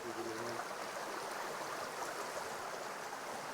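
A stream rushes over a stony bed in a steady, loud, continuous wash of flowing water, with no voices.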